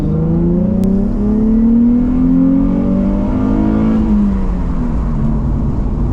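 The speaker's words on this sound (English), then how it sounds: "I've hit his rev limit again, and I'm not doing that on purpose" A 2004 Nissan 350Z engine revs hard toward its 6,500 RPM redline, the loud, close drone climbing steadily in pitch and then dropping back as it hits the rev limiter.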